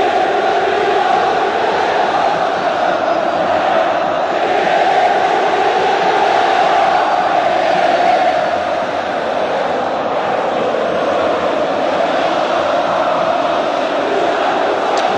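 A Moroccan crowd fills the stadium stands with a loud, unbroken roar that stays steady and dense throughout, with no single voice standing out.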